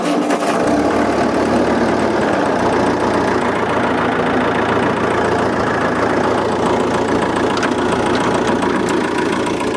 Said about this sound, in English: That's engaging the PTO shaft.